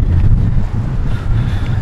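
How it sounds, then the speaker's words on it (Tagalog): Strong, bitterly cold wind in snowy Seoul near Namsan, roaring loud and close as it buffets the microphone in steady gusts, with no talking. "Grabe yung hangin."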